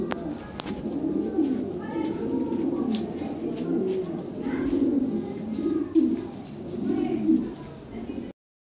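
Lahori pigeons, including a yellow female, coo in repeated low rolling bursts close by at a pigeon sale, with steady cooing throughout and someone talking over it.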